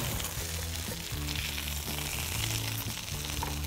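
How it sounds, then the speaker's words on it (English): Steady, close sizzling and crackling of chicken breast frying in a hot pan, with no voices. "as soon as it does start that sizzle"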